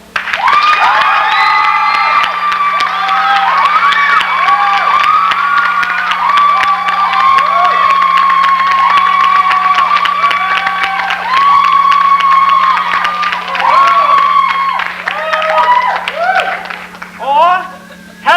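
Loud theater audience cheering, whooping and applauding at a musical-comedy performance, a sustained roar of clapping and shouts that swells in waves and tapers near the end.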